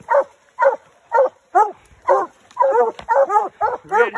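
Coonhounds bay loudly and repeatedly nearby at a treed raccoon, a rhythmic series of long, drawn-out howling barks about every half second.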